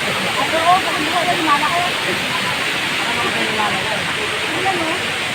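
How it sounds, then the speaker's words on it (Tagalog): A waterfall pours steadily nearby, a dense broadband rushing roar with no breaks, loud and constant for the whole stretch with only faint hints of other sounds beneath it. "Dito yung bumabagsak ng tubig."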